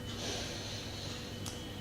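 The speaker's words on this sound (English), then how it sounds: "I can just keep sniffing this" Sniffing at a bar of hibiscus-scented soap held close, a soft airy snort-like inhale with a brief sharper breath near the end, close and quiet.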